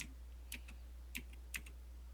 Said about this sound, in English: Does it sound like that typing?